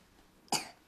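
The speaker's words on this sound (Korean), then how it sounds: "기침 너무한다." A child with a cold lets out one sharp, close cough in an otherwise quiet room, with a brief breathy tail as it fades.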